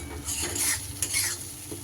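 Spice paste for egg curry with panch phoron sizzles and is stirred in a pan, with a spatula scraping and clinking against the metal in uneven strokes, loud and close.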